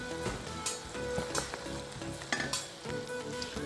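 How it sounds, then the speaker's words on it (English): Seafood okra soup sizzling in a Saladmaster pot while a spoon stirs it, giving steady frying crackle with soft scraping strokes, close and fairly quiet. "I'm going to give it a stir so that I could add the seafood in there"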